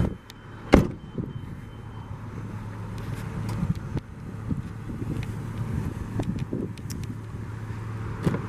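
A rear hatch on a 1998 Volvo V70 GLT wagon swings shut with one sharp, close thump near the start, followed by quiet rustling and faint handling noises.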